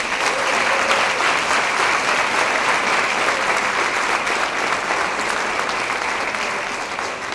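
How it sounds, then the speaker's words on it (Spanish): Loud, sustained applause from the audience at an international congress, dense and even throughout with no talking, easing off slightly at the very end. "Quiero pedirles un aplauso muy fuerte para Cientec 2016."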